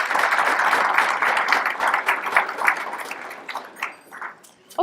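Applause at an awards ceremony, a dense crowd clapping that fills the room and gradually thins out and fades.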